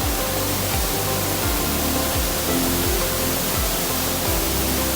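A waterfall in Aberdare National Park roars as a steady, loud, dense rush of falling water, broadband and unbroken, with no voices over it.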